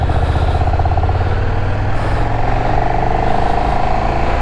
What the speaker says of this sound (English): We love a nice quick shifter.